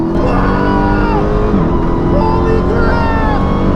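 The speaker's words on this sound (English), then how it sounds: "The Demon takes off at an incredible, unnatural rate that almost takes you by surprise" A 2018 Dodge Challenger Demon launches hard from a standstill, its engine roaring loudly and climbing steeply in pitch across the few seconds. A faint voice may sit under the engine noise.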